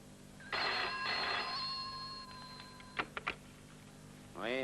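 A telephone bell rings twice in sharp metallic bursts, followed by a few clicks as the handset is picked up and a voice briefly begins at the end.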